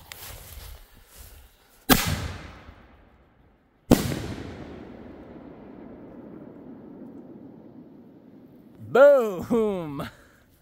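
Fireworks set off on a rainy evening: two sharp, loud booms a couple of seconds apart, each trailing into a long rumbling decay, followed near the end by rising whistling screeches.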